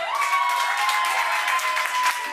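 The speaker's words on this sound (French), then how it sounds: "Déjà applaudissez pour vous." Clapping rises from a crowd inside a busy Abidjan nightclub, a steady moderate patter of hands set against a sustained tone and lively room noise.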